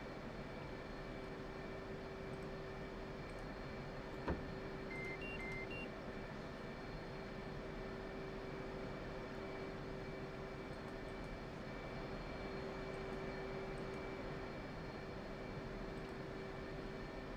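An F/A-18C jet sits on a carrier deck in the DCS flight simulator, its engine holding a steady, even mechanical hum throughout, with one faint click partway through.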